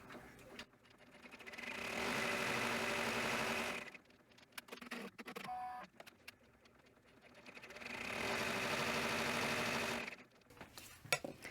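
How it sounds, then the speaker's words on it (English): An embroidery machine stitches the side seams of a fabric in-the-hoop gnome, running in two long steady buzzing stretches separated by a pause filled with mechanical clicks, close and alone. "And now it stitches the side seams."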